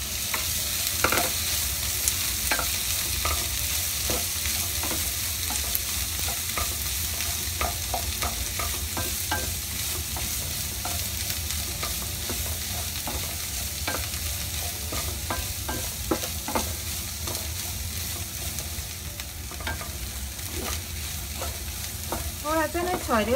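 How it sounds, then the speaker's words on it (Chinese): Onion and dried shrimp stir-fried in a pan for potato cakes, a steady loud sizzle running throughout with frequent scraping clicks of the spatula against the pan, no talking. "加埋洋葱落去，将佢炒香啦， 加埋啲虾米啦"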